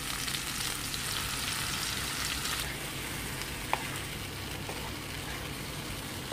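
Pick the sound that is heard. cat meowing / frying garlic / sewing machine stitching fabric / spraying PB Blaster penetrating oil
frying garlic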